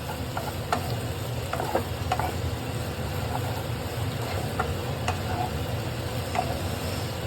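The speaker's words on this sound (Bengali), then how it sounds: "এবার কচুর মধ্যে পুরো মেখে নিই, মাখা মাখা করে দেবো।" A spoon stirring taro curry with lentil fritters in a pan, a continuous close scraping and soft sizzle with irregular light taps and clacks of the utensil against the pan.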